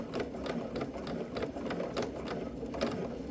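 A sewing machine stitches a swimsuit seam at a quarter-inch seam allowance, its needle running in a steady, close mechanical whir with a fine rapid ticking rhythm, alone with no voices.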